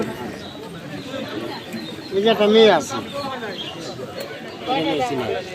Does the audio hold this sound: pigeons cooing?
yes